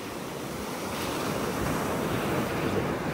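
Ocean surf washes steadily onto a beach in North Naples, Florida, a loud continuous roar of breaking waves with wind buffeting the microphone throughout.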